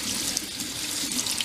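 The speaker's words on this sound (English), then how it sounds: "I'm going to drain them now and rinse with cold water." Cold tap water runs steadily into a kitchen sink while cooked potatoes are drained and rinsed, a continuous close hiss of flowing water with no talk.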